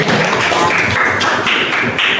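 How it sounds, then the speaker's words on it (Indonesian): Applause in a classroom coaching session, a steady patter of many hands clapping together for about two seconds, dense and fairly close with no voices over it. "Oke, tepuk tangan buat Anda."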